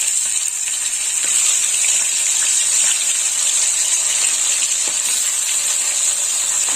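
Mourala fish frying in hot oil give off a steady, loud, close sizzle with a bright hiss that holds evenly from start to finish, with no talking over it.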